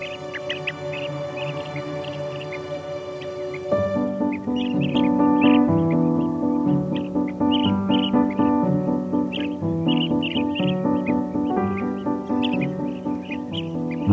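A blue-tailed bee-eater parent calls its fledglings out of the nest with repeated short chirps, rising over a bed of soft music that swells partway through.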